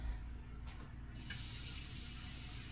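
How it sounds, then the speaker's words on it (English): Running water rinses vegetables at a kitchen sink for a pasta salad, a steady broadband hiss with a brief shift midway as the stream changes, no talk over it. "we're just going to give this a quick rinse"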